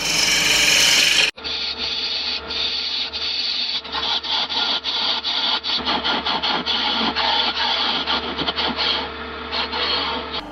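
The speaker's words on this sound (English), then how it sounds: "Well, that's all sanded now." A turned wooden disc is hand-sanded in a woodturning workshop, producing a continuous, close, rhythmic rubbing rasp with quick strokes after a brief louder noise at the start.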